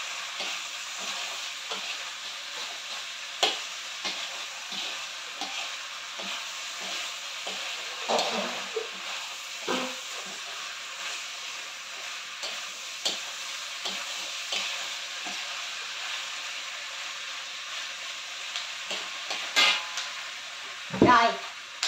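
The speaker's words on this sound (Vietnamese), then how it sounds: "món của em à, giò trường à, xào dưa leo cà chua thì đã chín rồi nha cả nhà" Pork intestine stir-fried with cucumber and tomato hisses quietly in the pan, a soft steady sizzle with scattered clinks and scrapes of stirring that grow louder toward the end.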